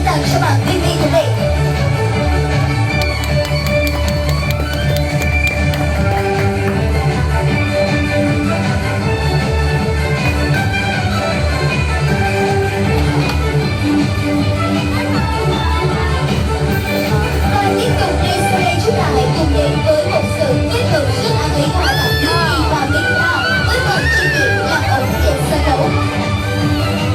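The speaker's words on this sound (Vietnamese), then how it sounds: "Một tràng pháo tay dành tặng cho bạn Mimi của mình" Loud crowd noise with cheering, shouts and children's voices at a monkey circus show on Nha Trang Monkey Island, continuous throughout with an announcer talking over it.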